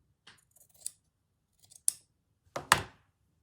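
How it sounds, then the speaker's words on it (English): Scissors trim fabric for a doll dress in three separate bursts of crisp snipping, close and clear, with quiet pauses between cuts. "I'm going to trim that."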